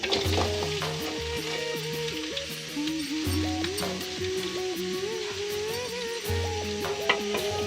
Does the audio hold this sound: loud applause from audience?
no